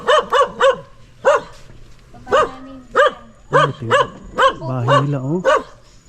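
A freshly bathed pet dog at a village house in Kalinga barks in a quick run of sharp yips followed by longer whining barks, loud and close, while a person speaks briefly.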